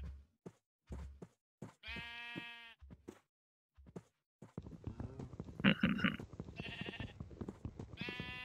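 Several video game sheep bleats, wavering and nasal, mixed with short knocking sounds; the bleats grow denser and overlap toward the end.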